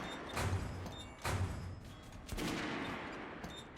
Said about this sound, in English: Let's get you some guns. Guns you want and try them out on my range.